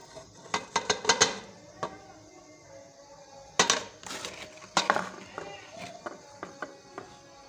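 Chopped green chillies and finely cut turmeric go into a pot for mutton yakhni pulao, heard as bursts of sharp metallic clinks and scrapes of a utensil against the pot, clustered then scattered.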